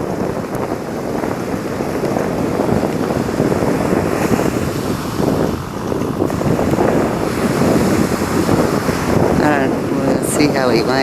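Strong wind buffets the microphone while surf rolls and crashes at a beach on a windy day, a constant loud roar with surges of waves and faint voices underneath.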